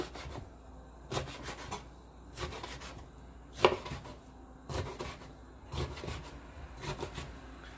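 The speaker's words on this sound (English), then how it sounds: "now I'm just going to give this a rough chop" Pickled mustard greens roughly chopped with a knife on a cutting board, about eight distinct thuds in an uneven rhythm, close and fairly quiet.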